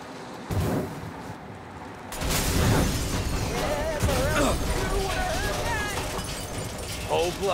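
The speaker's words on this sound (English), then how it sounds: "Use a Molotov and see some flames." In Mafia: Definitive Edition, a thrown Molotov cocktail bursts with a loud shattering crash followed by roaring, crackling flames, while in-game characters shout over the fire.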